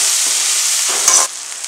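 Tomato masala with biriyani masala powder sizzles and hisses in a hot pan while being stirred, loud and close, with a brief scrape before the frying noise eases.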